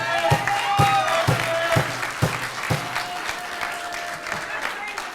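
Audience members at a county library board meeting clap and applaud, a moderate crowd sound with several sharp, spaced claps standing out over the steady patter.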